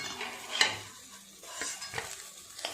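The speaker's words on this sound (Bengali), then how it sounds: "এই বড়াগুলো ভাজা হয়ে গেল, তুলে নেব।" Prawn fritters frying in a pan, a soft quiet sizzle broken by a few light clinks and scrapes of a utensil lifting them out.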